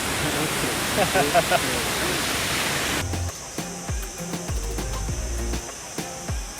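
Ouzoud waterfall in the Atlas Mountains of Morocco, a broad steady roar of falling water that fills the first half, then drops low beneath a man's speech.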